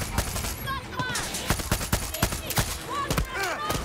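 Bursts of automatic gunfire from the video game Far Cry 6, rapid loud shots in close succession with ricochet-like whines, dense and continuous over a few seconds.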